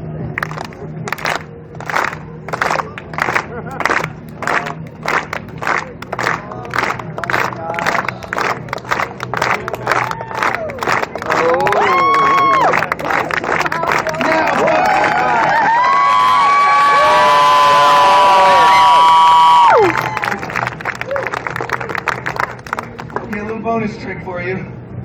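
A street-performance crowd at the Edmonton Fringe claps in a steady rhythm, then bursts into loud cheering and whoops around the middle stretch, with a performer talking and shouting over the beat.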